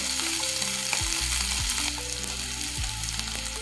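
Onion and ginger garlic paste fry steadily in a pan with a continuous close sizzle, and a few scraping stirs of a utensil break through it.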